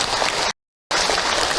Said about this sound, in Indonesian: Baik Ibu, tepuk tangan untuk Ahilman,